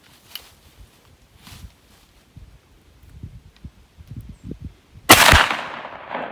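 A 16 gauge gun firing a .600 caliber roundball at an outdoor range, one sharp loud blast near the end that rings out and decays, after a stretch of quiet rustling and faint background sounds.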